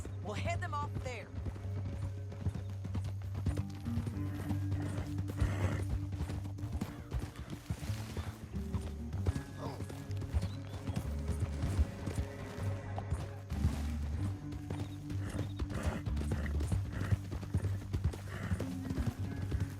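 Horse hooves clip-clop in a steady rhythm as riders travel through a canyon in Red Dead Redemption 2, close and continuous beneath a bed of orchestral game music for the full stretch.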